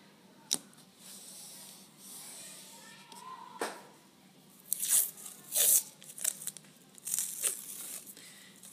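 Tape torn off a roll and pressed down around the edges of a sheet of paper on a desk, giving several sharp ripping and crinkling bursts in the second half after a quieter start.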